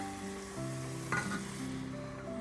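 Steady sizzling of chicken and mushroom risotto frying in a pan, with a brief clatter of stirring partway through and no voices.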